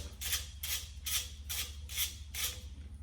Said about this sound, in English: I'm using a 10mm socket and my ratchet. I'm going to loosen this.